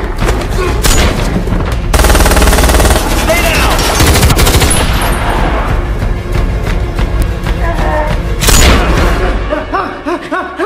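Gunfire in a Jason Statham action film, loud dense bursts of automatic fire and heavy booms layered over a film soundtrack, with sharp single shots and thuds that ease briefly before another loud volley near the end.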